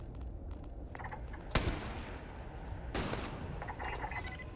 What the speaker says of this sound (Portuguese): Os caras tentando me dar tiro aqui